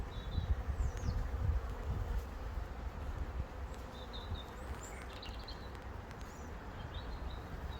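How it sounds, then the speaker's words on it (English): Honeybees swarm flowering ivy in autumn, a steady dense insect hum that carries on throughout and fills the scene, while faint bird chirps and calls rise briefly in the background. "this is ivy in flower, and the honeybees absolutely love it"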